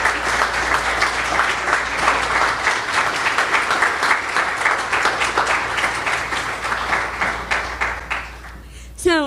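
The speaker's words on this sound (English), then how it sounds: "Let's give them a round of applause." Sustained applause from an audience honoring participants of an intensive city design charrette, dense steady clapping throughout that thins toward the end, with a few scattered voices.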